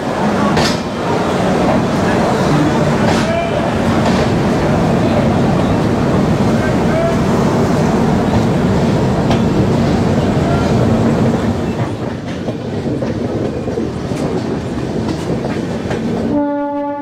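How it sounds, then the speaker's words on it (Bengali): The Darjeeling Mail pulls out of platform 12 at Sealdah station with a steady rumble and clatter of rolling carriages, a horn sounding near the end, amid a busy background of voices. "ঠিক 10টা 15 আমাদের ট্রেনটা ছেড়ে দিল শিয়ালদা স্টেশনের 12 নম্বর প্ল্যাটফর্ম থেকে"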